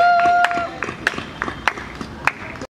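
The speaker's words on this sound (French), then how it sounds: "Sous vos applaudissements." Scattered hand claps from a crowd at a sports ground, a few sharp, uneven claps rather than a full ovation, mixed with voices.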